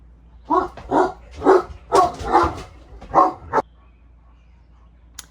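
A female dog barks indoors about seven times in a quick, irregular run. The barks are loud and close, then stop, leaving quiet.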